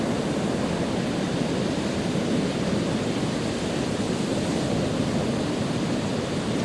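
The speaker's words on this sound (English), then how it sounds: "An extended period with exactly the same size of waves crashing onto the beach" Waves break steadily onto the beach at Stonehaven, Scotland, near the mouth of the River Carron, making a continuous, even wash of surf with no distinct individual crashes.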